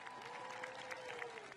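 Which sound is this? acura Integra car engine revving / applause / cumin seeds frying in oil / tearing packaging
applause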